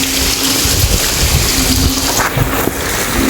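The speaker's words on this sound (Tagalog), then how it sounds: "Biglang humangin na." Strong wind gusts sweep through a farm plot in Bicol during Typhoon Kristine, a loud, continuous roaring rush buffeting close to the microphone, with no voices.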